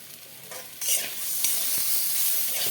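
Bathua greens are stirred and fried with boiled potatoes, fried eggplant and a little sugar, giving a close continuous sizzle with scraping stirs that grows louder after the first second, with no voices.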